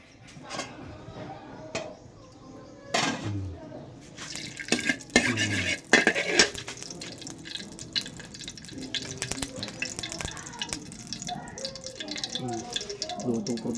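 Cooking oil poured into a pot for pork tinola in a rural home kitchen, with metallic clanks, stirring and watery splashes that stay close, irregular and moderately loud throughout.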